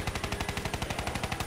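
Rapid automatic gunfire from the video game Black Ops 3 Zombies, a fast even stream of loud sharp shots roughly every tenth of a second, continuous and close with no talking.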